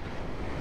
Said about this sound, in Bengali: সমুদ্রের পানি সব সময় উত্তাল থাকে